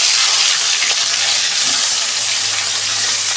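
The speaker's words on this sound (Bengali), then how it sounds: "আমি দুটো করে ভেজে নেব মাছ" Fish pieces fry two at a time in hot oil in a wok, giving a steady, loud, dense sizzle that continues without a break throughout, with no talking over it.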